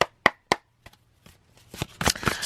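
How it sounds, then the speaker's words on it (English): A deck of tarot cards being handled, a few sharp isolated slaps and riffles followed by a denser burst of quick card flutters toward the end, close and fairly loud, with no speech. "I shuffled the deck already"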